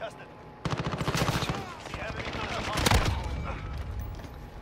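FAMAS burst-fire shots crack in rapid clusters in the video game Modern Warfare, dense and close, building to a heavier volley near the end, with a voice talking in the background.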